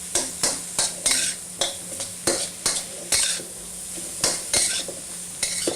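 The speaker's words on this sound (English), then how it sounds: "And we'll toss in our vegetables and give it a stir fry." Vegetables stir-fried in a pan for pork fried rice, close sizzling broken by a dozen sharp, regular scraping strokes of a utensil against the pan, roughly two per second, with no talking.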